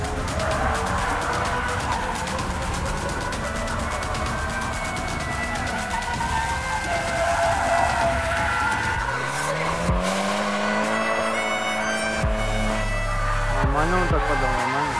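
A Toyota GT86 or Nissan Silvia S14 drifts at a closed skatepark, its engine roaring steadily with continuous squealing tires, loud and close, then revving and pitching up and down near the end.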